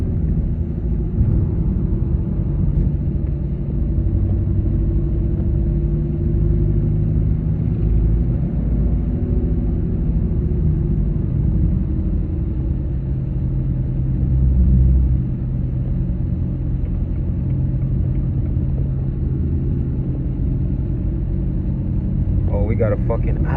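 A car drives along a road, a steady low rumble heard from inside the cabin throughout, with voices talking over it.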